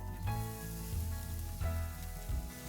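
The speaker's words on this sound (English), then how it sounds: "Saute for 3 to 4 minutes." Onions sauté in chili oil in a single pan, giving a steady, moderately loud sizzle that holds throughout with slight surges, no voices over it.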